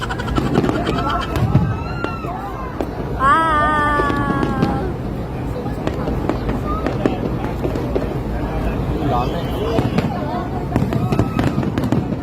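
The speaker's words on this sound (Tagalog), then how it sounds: "naabutan pa nga namin ng fireworks dito sa Enchanted Kingdom" Fireworks display at the Enchanted Kingdom theme park, with repeated crackling bursts and pops going off over a steady crowd murmur, while voices chatter and call out nearby throughout.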